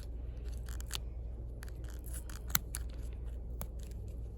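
Sharp scissors snip through bundled yarn while trimming a pom-pom, a series of crisp close cuts at uneven intervals, one especially loud, over a low steady background hum.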